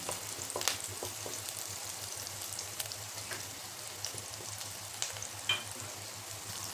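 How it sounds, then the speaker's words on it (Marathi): Green chillies frying in oil until crisp for thin poha chivda, a soft, steady close sizzle with a few light pops over a low hum. "मिरच्या तळत आल्यात आपल्याला त्यामध्ये कोथिंबिरीचे पानं पानं घालायचे थोडी आणि क्रिस्पी होईपर्यंत अशी कडक होईल अशा हिशोबाने तळून घ्यायचे"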